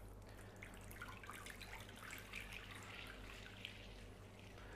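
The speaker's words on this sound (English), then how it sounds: "add the water" Water poured into a well of flour for bread rolls, a faint, steady trickle and splash at close range with no talking.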